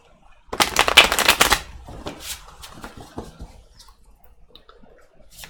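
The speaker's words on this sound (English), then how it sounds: "And one more shuffle" Tarot cards are shuffled in a quick riffle of crisp flutters, followed by softer taps and shuffling handling sounds, close up and alone.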